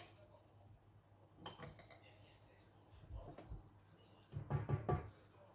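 A kitchen pot is covered with its lid while almond-semolina cake cooks: soft metallic clinks and a short burst of clattering near the end, with some quiet speech in the background.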